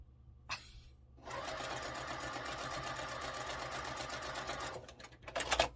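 A domestic sewing machine stitches a quilt block for a sampler quilt, a steady loud mechanical whir running continuously for about three and a half seconds after a brief click, then stopping with a few handling clatters at the end.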